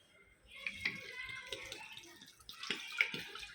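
Water pours from a 2-litre bottle into a cooking pot holding onions, peas and spices for khichdi, giving a soft, uneven splashing that is quiet and close, with faint background voice.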